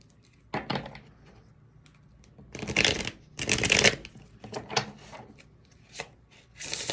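A Love Oracle deck of oracle cards is shuffled in several separate bursts of crisp, papery riffling and slapping, close and clear, with short pauses between.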